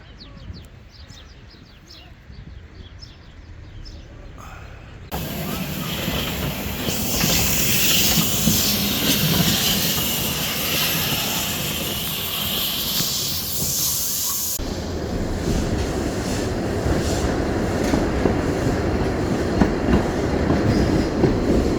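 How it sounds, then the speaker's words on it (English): A steam train on the Isle of Man railway at Port Erin, heard rumbling and clattering along the track with a steady hiss, growing louder midway and continuing as a sustained close rolling noise, with faint birds early on. "Just took the train, a steam train."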